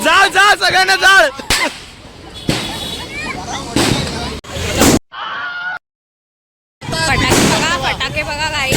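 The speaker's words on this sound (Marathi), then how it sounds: "उपवनला फटाके फोडायला." Firecrackers go off during Diwali at Upvan: several sharp, loud bangs punctuate excited shouting and chatter, with one stretch of near silence between bursts.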